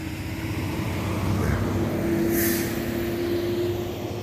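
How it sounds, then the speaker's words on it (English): Road traffic rumbles outdoors at night beside a storm-damaged tree stump, a continuous low drone with a passing vehicle swelling in the middle and a faint steady hum throughout. "we're going to have to deal with some traffic noise out here"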